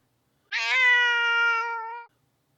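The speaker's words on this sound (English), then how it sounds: "I gotta give my cat a fucking treat, dude. He's yowling and shit." A house cat lets out a single loud, drawn-out yowl lasting over a second, close and clear, rising slightly then fading out, alone without any talk.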